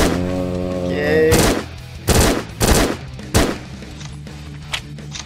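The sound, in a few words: Uzi gunfire in zombie shooting range video game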